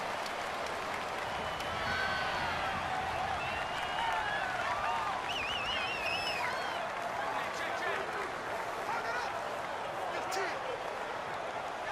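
Stadium crowd noise in the video game Madden NFL 19, a loud, dense, continuous roar from a home crowd during a Steelers–Jaguars game, with a commentator talking over it.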